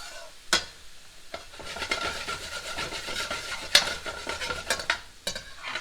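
Garlic sweating in a hot pan, a steady soft sizzle with a spoon stirring and scraping through it, a few sharper clinks of utensil against the pan.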